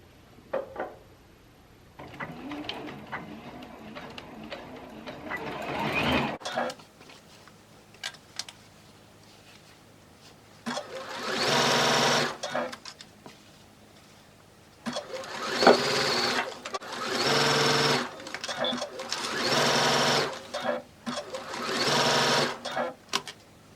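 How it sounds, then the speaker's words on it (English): Sewing machine stitching the yoke seam of a dress top, running in several steady bursts of a few seconds each with short pauses between, close and fairly loud. "I'm going to sew my yoke on the bottom part of my top at 3/8 seam allowance"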